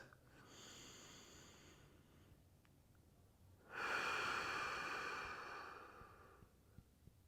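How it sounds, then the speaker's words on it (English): Slow, deep belly breaths taken during a back stretch, a long airy exhale followed by a louder, fuller one, close and unaccompanied. "take about 5 deep, slow belly breaths"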